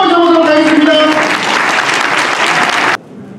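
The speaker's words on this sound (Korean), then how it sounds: "우리 신랑 아버님 위해서 우리 박수로 모셔보도록 하겠습니다." Guests at a wedding ceremony clap loudly and steadily for about three seconds, with a voice heard over the start, before the applause cuts off abruptly into near silence.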